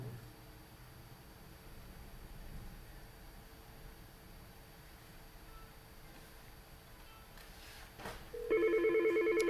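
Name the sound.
telephone ringing for incoming call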